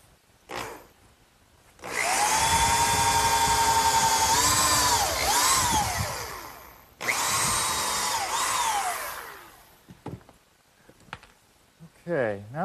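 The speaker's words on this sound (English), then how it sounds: "pre-drill some holes for the screws" A power drill whines at high speed in two long bursts pre-drilling screw holes for a sandbox, the pitch sagging as it bites in, with short pauses and faint shuffling between.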